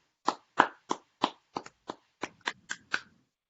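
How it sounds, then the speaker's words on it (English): Roughly eleven separate hand claps ring out close and alone in an uneven rhythm, a small round of applause for presenters at a monthly online program. "let's give a real big round of applause for both of our presenters"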